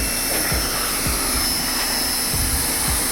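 A Hyper Tough 1800 psi pressure washer sprays ATVs. It gives a constant loud, close hissing roar with a few low thumps pulsing underneath. No one speaks.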